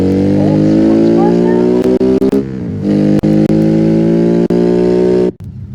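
In BeamNG.Drive, the Autobella Piccolina CJD Special's engine roars loud and close at a sustained high rev, broken by quick gear-shift drops, before cutting off abruptly near the end.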